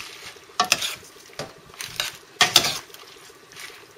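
Spinach stirred into already cooked beans in a pan, a spoon scraping and clacking against the pan in a series of separate strokes with quiet gaps between them, close and moderately loud.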